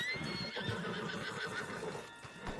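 A horse in Red Dead Redemption 2 lets out a drawn-out neigh and whinny over clattering hooves and game ambience, loud and close without talk.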